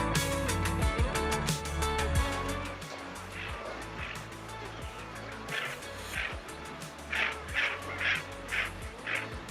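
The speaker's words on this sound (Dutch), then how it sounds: "wordt het gebied het hele jaar druk bezocht door diverse vogels" Ducks quack and other birds call around a lake in Iceland, with repeated quacks layered over steady ambient outdoor noise and a broad rushing wash.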